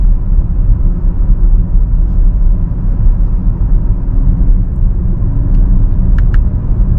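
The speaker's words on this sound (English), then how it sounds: "Turn the cruise control on, assisted driving on." A BMW XM cruises on assisted driving at about 45, its cabin filled with a steady, quiet low road rumble and engine hum that holds evenly throughout, with a couple of faint clicks near the end.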